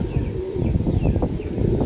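Champion rooftop pigeons coo in low, soft, repeated calls near the listener, under a steady background rumble, with no talking.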